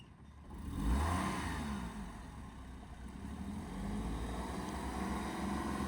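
A car engine revs hard while reversing with too much accelerator and too little clutch release, a low, fairly quiet drone that swells near the start and then holds steady, with no talk.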